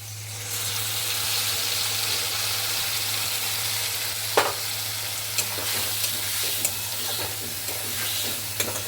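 Spice masala of chili, coriander and turmeric powder sizzles steadily in a hot pan, with a continuous loud frying hiss broken by a few sharp clinks and scrapes of stirring.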